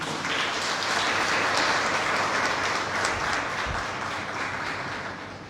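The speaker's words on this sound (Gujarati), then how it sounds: "આપણે તાળીઓથી વધાવીએ" Sustained applause from an audience at a Gujarati book talk event, a dense steady clatter of many hands clapping that holds for several seconds and slowly fades at the end, with no speech over it.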